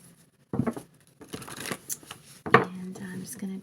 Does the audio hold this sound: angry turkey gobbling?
no